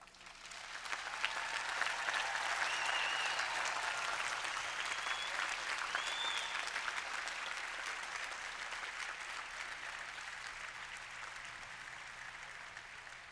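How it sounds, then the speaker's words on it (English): Large audience at a 1989 MIT commencement applauding families, a broad, sustained wave of clapping that swells in the first seconds and then slowly fades, heard from a distance in a big open space. "I would like to give you a moment to applaud your families who have supported you all these years."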